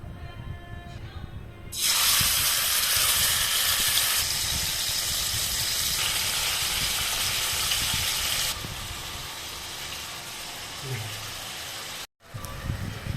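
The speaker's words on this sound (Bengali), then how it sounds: "তো স্টিকগুলো আমরা দিয়ে দিয়েছি সব। এবার এটা খুব সুন্দরভাবে ভাজা হবে।" Chicken hariyali kebab sticks dropped into hot oil in a wok, a sudden loud hiss that erupts after a quiet start, sustained sizzling that eases partway, then a brief cut and return.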